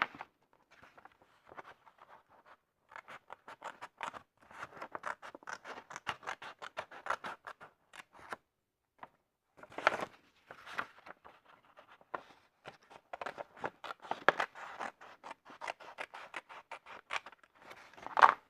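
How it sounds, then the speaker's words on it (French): Scissors cut along the sides of a large paper envelope in quiet, irregular snips and crisp rustles, with short pauses between bursts of cutting. "Donc on va venir découper également les côtés."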